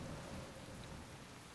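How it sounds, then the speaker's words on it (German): A storm sound effect for a children's audio drama: steady heavy rain hissing with a low rolling rumble of thunder underneath, constant and fairly quiet, with no voices. "kämpfte sich durch den Sturm und Regen bis zum nahen Wald"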